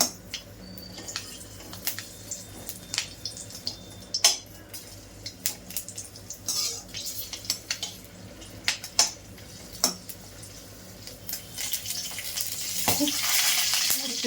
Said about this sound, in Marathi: छानपैकी असं मिरची भाजून घेऊ